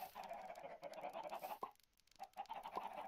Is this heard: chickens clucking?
yes